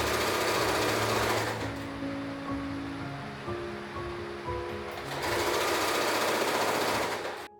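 A sewing machine runs steadily, stitching embroidered lace onto a dress bodice, with a loud continuous whirring motor drone that pauses briefly in the middle before resuming just as strongly.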